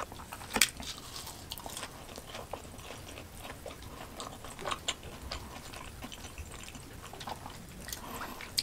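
A crispy BBQ cheese ball with a crunchy shell and yellow cheese inside is bitten and chewed close up, with a sharp crunch near the start followed by soft, repeated chewing and small squishy sounds, no talk.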